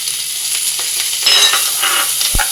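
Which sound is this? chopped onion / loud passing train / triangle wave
chopped onion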